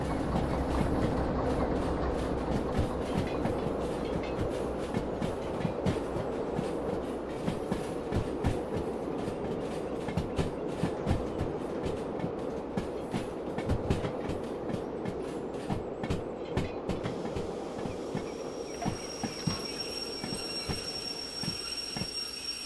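A train rolls along in the Derail Valley railway game with a continuous clickety-clack of wheels over rail joints and a steady low rumble. Faint wheel squeals rise near the end.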